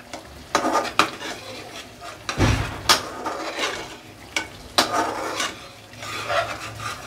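Garam masala stirred into green chicken in a pan, with scraping and clinking of a spoon against the pan in repeated strokes, fairly close, over a faint background and no talk.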